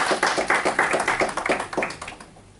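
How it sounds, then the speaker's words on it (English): Audience applause at a women's empowerment press launch, greeting two fashion models: a burst of dense, steady clapping from a crowd that carries evenly, then thins and fades toward the end. "Please give them a round"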